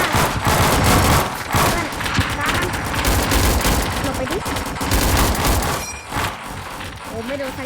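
Rapid bursts of gunfire in a Roblox PVE map, loud and continuous fusillade-like volleys close up for the whole stretch, briefly dipping near the end, with a voice talking over the shooting.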